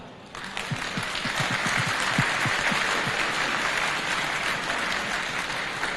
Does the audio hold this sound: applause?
yes